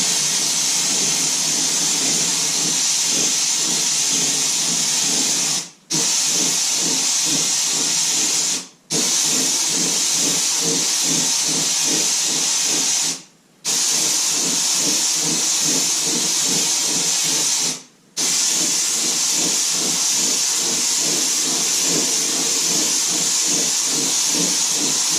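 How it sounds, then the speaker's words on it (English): Critter paint sprayer driven by compressed air from a hose, hissing steadily in four long bursts separated by brief pauses, with a faint rhythmic mechanical pulsing underneath; no talking. "I'm only going to spray for a little bit because if I keep going, the air compressor is going to kick on."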